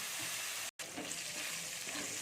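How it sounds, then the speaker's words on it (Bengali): Fish sizzle in hot oil in a pan, a close, even crackling hiss that runs continuously apart from one abrupt momentary dropout. "এবার মাছগুলো আমি ভাজিয়ে দেবো"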